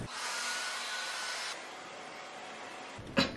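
A hair dryer blows heat onto the synthetic edges of a braided lace wig, a steady close whooshing hum that drops to a lower setting partway through before a short clatter at the end.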